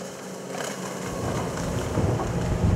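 Formenti ZAR 57 welldeck motorboat running at over 30 knots, a loud steady engine rumble mixed with rushing water and wind buffeting the microphone, rising slightly.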